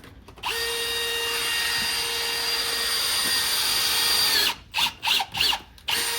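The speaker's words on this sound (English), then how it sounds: "we're gonna take our drill bit and just get rid of these threads" A power drill bores the old threads out of a bolt hole in the subframe of a boosted BMW E36 M3, a loud, steady high whine running for several seconds before breaking into a few short stop-start bursts.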